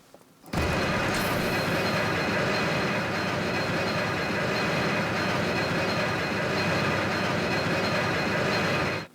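A heavy, continuous mechanical rumble and grinding of a rotating bridge in the Tak Base level of Disney Infinity 3.0, starting suddenly, holding steady for several seconds, then cutting off.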